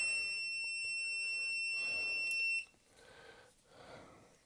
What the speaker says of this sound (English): It beeps at you very loudly if there's any voltage left in the cap at all.